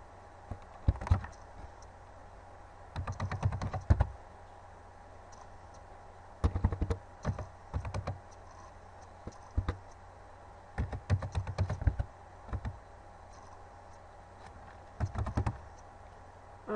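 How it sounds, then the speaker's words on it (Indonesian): Typing on a computer keyboard comes in several short bursts of quick, quiet key clicks, separated by pauses of near silence. "Nah, kita ketikkan di sini"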